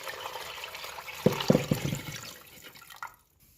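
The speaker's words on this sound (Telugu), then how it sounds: "ఆ వాటర్ దీనికి పోసేయాలి." Water goes into a pot of softened tomato mixture for tomato rice, a short close splashing pour that starts abruptly, tapers into trickles and drips, then stops.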